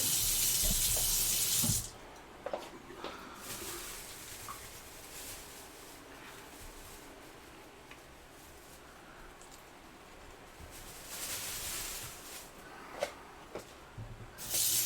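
Peppers being rinsed under a running kitchen tap, a steady hiss of water that starts loud, drops to a quieter trickle with light clatter, then swells again near the end.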